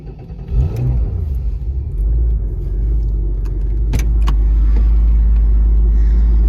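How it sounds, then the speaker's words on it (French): A 1994 Porsche 993 Carrera 4 Cabriolet starting up, with a brief crank and a rising catch into a steady, loud, deep idle rumble nearby, plus a few light clicks and key jingles. "Démarrage de la voiture."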